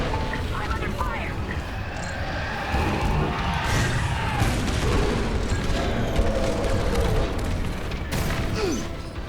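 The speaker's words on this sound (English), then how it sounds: "Our Corvette is taking heavy fire." Space combat in the Star Wars: Squadrons video game, a starfighter under heavy fire amid a dense wash of blaster shots, booms and engine roar, with voices talking over the battle.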